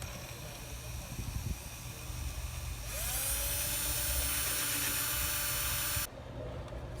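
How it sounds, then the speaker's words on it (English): A steady high-pitched power drill whine rises over a low rumbling background, running for several seconds and then cutting off abruptly, while fitting a carriage top to a 2000 Cadillac DeVille. "Just go on ahead and start drilling."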